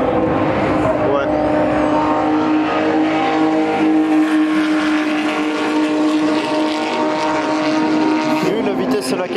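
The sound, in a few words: race car passing at speed on track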